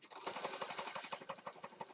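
A sewing machine stitches through a paper mixed-media accordion-folded journal, its needle tapping in a fast, even rhythm that runs continuously at close range.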